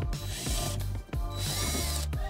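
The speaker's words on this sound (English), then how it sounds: "now we can remove the Phillips head screw" A Phillips head screw is backed out of a trim panel on a 2019 Honda Pilot with a ratcheting driver, a close, steady clicking ratchet run with two brief pauses partway through.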